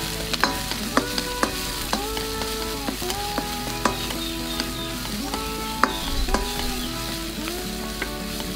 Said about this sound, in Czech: a vše orestujeme.